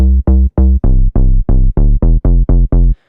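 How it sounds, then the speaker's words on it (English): Future Bounce sub bass preset in FL Studio, playing eleven loud, deep, clipped bass notes in a steady bouncing rhythm, each note short with a bright buzzy top, alone and upfront. "So we'll bring up the Future Bounce sub"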